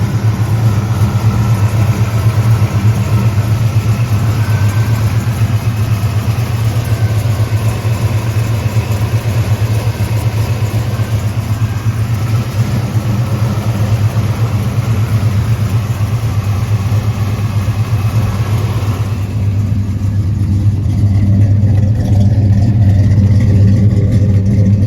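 A 1966 Chevrolet Chevelle with a 4-speed runs steadily at close range, its deep engine drone holding even for about twenty seconds before easing slightly, with no talk over it.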